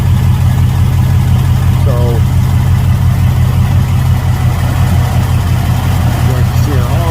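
A truck engine runs with little or no oil after being dropped back in, holding a steady low idle drone from start to finish while someone talks over it.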